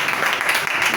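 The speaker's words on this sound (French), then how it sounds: "Est-ce qu'on peut applaudir pour Jésus," A church congregation applauds at an anniversary and naming service, a dense, steady wash of clapping filling the short moment without a break.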